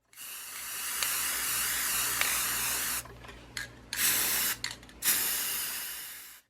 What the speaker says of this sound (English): sealed it with a satin top coat